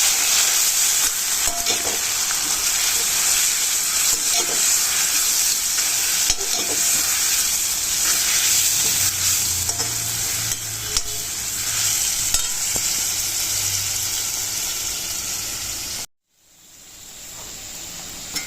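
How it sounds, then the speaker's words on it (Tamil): Goat intestines for a blood fry are stirred and fried in a pan, a loud continuous sizzle with repeated scraping strokes, then the sound cuts off abruptly near the end. "இதையும் நல்லா மிக்ஸ் பண்ணிக்கலாம்."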